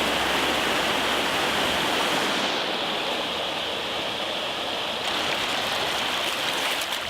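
Glacial stream in Alaska rushing past nearby as a loud, steady broadband wash of flowing water with no pauses, nothing else standing out.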